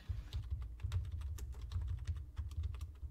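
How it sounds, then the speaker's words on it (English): Rapid keystrokes clatter on a computer keyboard during a tabletop game session, a dense, irregular patter of clicks with steady low background rumble and no talking. "Ross is just typing something"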